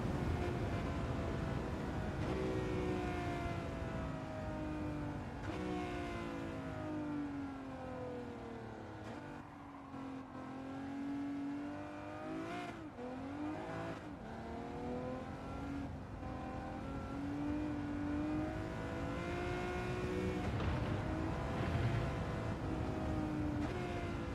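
Race car with a 4-speed gearbox in a racing video game, its engine droning continuously and loudly with rising and falling revs through gear changes, no voices over it.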